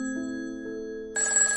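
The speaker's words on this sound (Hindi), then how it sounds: "अचानक उनके घर की फोन की घंटी बजी" A home telephone rings with a steady electronic tone that turns brighter and louder partway through, heard alone with no talk, like a sound effect.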